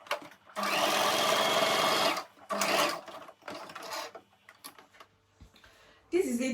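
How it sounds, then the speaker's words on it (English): A sewing machine stitches down T-shirt fabric in two fast whirring bursts, one long and one short, followed by softer clicks and fabric handling close by. "then you carry on sewing"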